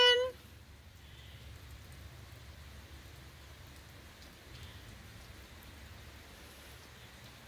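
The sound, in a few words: rain falling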